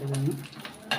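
Chickpea curry ingredients with coconut pieces are stirred in a pan, giving brief scraping and clinking of utensil on metal over a faint sizzle, with a voice audible at the start.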